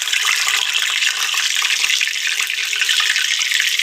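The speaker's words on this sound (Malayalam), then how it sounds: "ഇനി മാവ് കോരി ഒഴിക്കണം" Unniyappam batter frying in hot ghee and coconut oil makes a loud, dense, continuous sizzle with a fine crackle, close and steady throughout.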